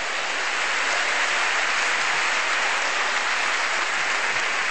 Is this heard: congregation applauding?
yes